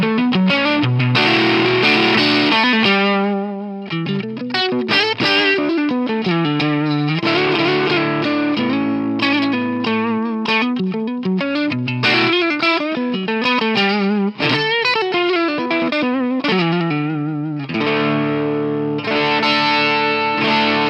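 Electric guitar driven through a Boss BD-2 Blues Driver overdrive pedal, loud and sustained with gliding bends and note runs, a crunchy edge over a clean amp tone, played alone without any voice.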